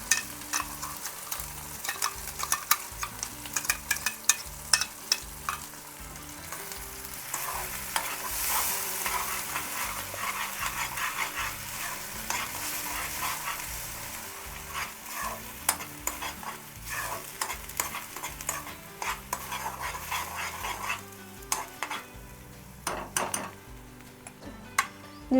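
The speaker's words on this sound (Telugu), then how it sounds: "కొంచెం చూసుకొని వేయండి, చిల్లుతుంది." Ground masala paste frying in hot oil for egg pulusu, stirred with a utensil: a continuous sizzle under frequent scraping and clinking against the pan, irregular taps scattered throughout, close and moderately loud.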